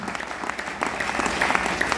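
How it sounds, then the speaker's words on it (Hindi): An audience at a club gathering claps loudly and steadily for the whole two seconds, a dense patter of many hands close by. "जोरदार ताली बजा लो प्लीज"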